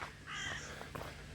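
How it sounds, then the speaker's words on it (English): Crows caw faintly in the distance on a quiet walk in Switzerland, a couple of short harsh calls over soft outdoor background noise, with no talk. "There are some crows again."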